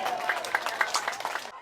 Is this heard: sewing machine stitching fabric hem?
no